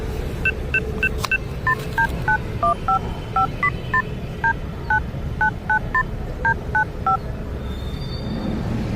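A telephone number is keyed in as a quick, evenly spaced series of about sixteen distinct touch-tone beeps, clear and close against a low background hum.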